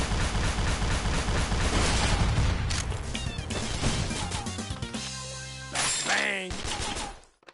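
Dense, loud video game gunfire during a mercenary mission, with rapid overlapping shots and crashes running almost continuously, then sharper isolated bursts before it cuts off.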